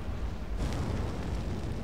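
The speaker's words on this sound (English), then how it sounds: "those two artillery pieces firing away at them" Distant artillery pieces firing in a World of Tanks clan battle on a tier 10 Arctic map come through as a dense, continuous low rumble with booming energy. No single shot stands out clearly.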